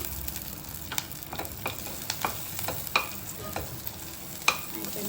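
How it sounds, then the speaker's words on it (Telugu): Mustard seeds frying in a pan, a continuous soft sizzle peppered with small sharp pops and crackles scattered irregularly, close by with no talking. "ఆవాలైతే బాగా వేగినాయి ఫ్రెండ్స్. స్టవ్ ఆపుతున్నాను."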